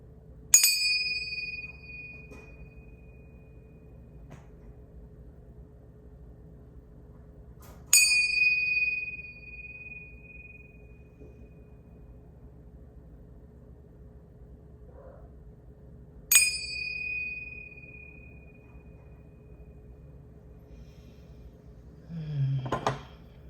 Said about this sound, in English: then I am going to ring this bell, so if anybody has headphones or earbuds in, it can be kind of loud